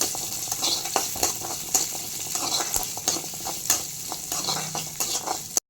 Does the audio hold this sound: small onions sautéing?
yes